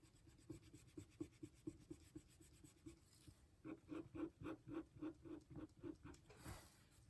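An eraser rubs dirt from a Golden Age comic book page in quick back-and-forth strokes, first light and steady, then a firmer run of rhythmic scrubbing passes, close and soft with no talking.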